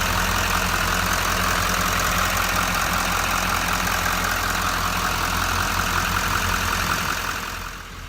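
A stock 2013 Chevy 3500HD dually's 6.6 liter LML Duramax diesel with stock airbox and exhaust idles steadily, a close, loud, even clatter and rumble that fades slightly at the very end.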